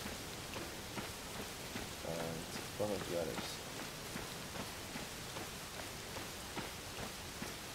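Steady rain falling in Zelda: Tears of the Kingdom, a continuous soft hiss of drops that runs the whole length, with a voice talking briefly over it.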